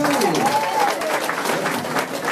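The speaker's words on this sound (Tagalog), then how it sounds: "Milyong palakpak na para kay Mr." An audience at a business presentation breaks into applause, brief dense clapping heard amid voices and cheering over a short stretch.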